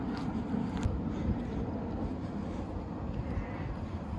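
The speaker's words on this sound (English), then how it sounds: "there's a jet flying by right now" A jet's steady low roar drones faintly in the distance, a broad rushing rumble with no voices.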